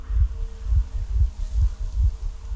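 A heartbeat pulse from the video game Metro Exodus throbs in steady, deep thumps, roughly six beats in a slow, even rhythm, loud and close with no talking.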